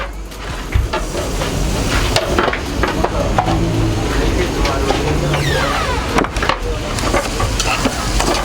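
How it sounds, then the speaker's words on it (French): Vegetables, rice and curry sizzle and fry in a pan while being stirred, with scraping and clattering strokes close by over a steady crackle. "On remue, fait bien griller nos currys"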